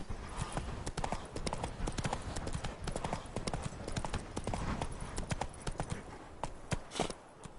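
Roach the horse from The Witcher 3 gallops with dense, rapid hoofbeats close up, a continuous clip-clop rhythm over the whole stretch with faint background sound.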